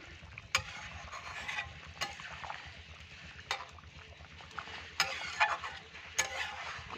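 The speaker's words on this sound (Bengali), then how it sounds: "এবার আমি ভাজা মাছগুলোকে দিয়ে দিচ্ছি" Fried magur fish goes into a simmering light curry with papaya, giving a soft bubbling and sizzle with occasional sharp clinks of a stirring utensil against the pot, close and quiet.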